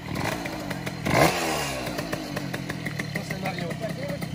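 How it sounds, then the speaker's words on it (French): A vintage moped engine runs just after starting, a steady buzzing idle with rattling clatter and a brief louder burst early on, heard close up while people talk nearby. "Ça y est, elle est démarrée"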